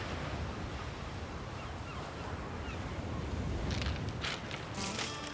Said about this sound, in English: the tide was out, hear the waves crashing a little bit